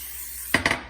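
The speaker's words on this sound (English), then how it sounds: "I'm just gonna spray that real good" After a moment of quiet background hiss, a short pump spray of cooking oil bursts twice, close by, hissing briefly onto a grill pan.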